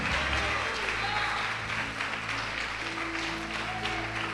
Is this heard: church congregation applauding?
yes